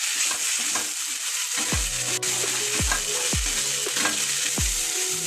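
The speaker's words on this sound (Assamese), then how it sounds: "এনেদৰে অকণমান লৰাই থাকিম" Khar rice sizzles steadily in a pan, a constant bright frying hiss, while a spoon scrapes and stirs in about four distinct strokes spaced a second apart.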